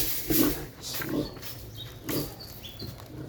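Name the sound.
pig grunting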